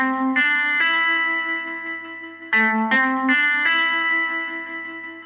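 Sustained synth or guitar-like chords ring out through parallel effects with delay, chorus and distortion, several bright layered notes entering in turns and smearing into shimmering tails, clean and close with no voices.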